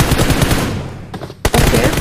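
Rapid automatic gunfire in a shooting video game, dense bursts of shots close and loud, breaking off briefly before resuming.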